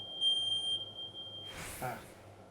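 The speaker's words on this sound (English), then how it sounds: "Our fire alarm's going off at stupid weird intervals" A home fire alarm goes off, giving a piercing, steady high-pitched tone at close range that holds for about a second and a half before cutting out into rustling noise.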